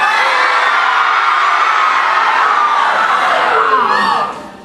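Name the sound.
audience shouting to imitate chaos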